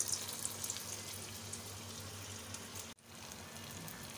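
Pieces of food frying in hot oil give a steady, faint sizzle that runs on evenly, broken by one brief drop near the end.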